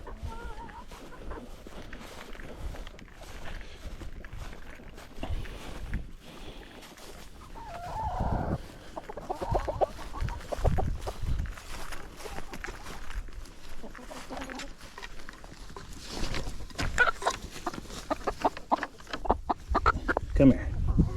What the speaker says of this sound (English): Is there a barred rock tussle going on over here?